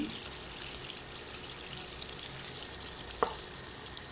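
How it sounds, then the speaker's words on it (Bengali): Spice masala sizzling and frying in oil for a beef kofta meatball curry, a dense continuous hiss with one brief clink of stirring, no voices. "এখন মশলাটা ভালো করে কষিয়ে নেব।"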